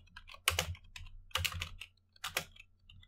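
Typing on a computer keyboard while writing a Python while loop: quiet clusters of quick key clicks in a few short bursts, with brief pauses between them.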